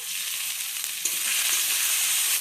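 Steady, loud sizzling of spices and ginger paste frying in hot oil, with a few soft scraping stirs partway through; no voices.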